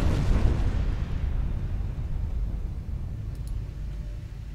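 Big naval gun blasts and shell bursts from battlecruisers in Ultimate Admiral Dreadnoughts open with a heavy boom, then a long low rumble slowly fading over several seconds, with no talk.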